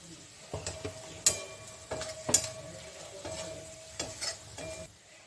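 Browned onions frying in oil with turmeric and Kashmiri chili powder for a jackfruit and prawn curry sizzle softly while a spatula scrapes and taps the pan in an uneven rhythm, close and fairly quiet, with no talking.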